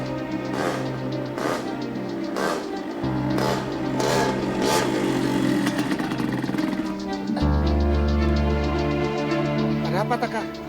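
A motorcycle engine idles and sputters before breaking down, its throbbing mid-pitched drone shifting in tone with short bursts and a deeper rumble toward the end, alongside other background sound.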